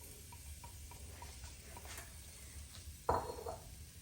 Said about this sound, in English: I'm going to saute the onions